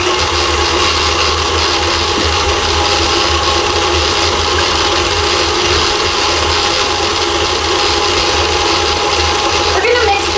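An electric stand mixer churns hot chocolate cookie dough with a steady, loud mechanical whir and faint gear clatter that run unbroken and close-up, with no talking over it.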